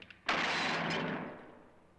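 A single gunshot from the film House on Haunted Hill, a sharp, loud crack followed by a long, broad rumbling decay that fades over about two seconds, with no talking.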